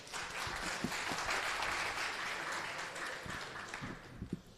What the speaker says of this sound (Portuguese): Palmas pro nosso amigo aí logo.